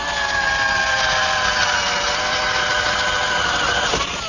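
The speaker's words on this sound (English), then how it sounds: "I'm going to drill a hole first." A power drill bores a hole through a wooden top panel, a steady high whine that holds evenly for about four seconds before easing off as the bit breaks through.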